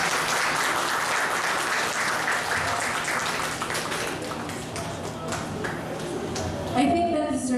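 A classroom audience at a Cebuano literature teaching session breaks into steady, dense applause that fills the whole stretch, with a voice emerging near the end.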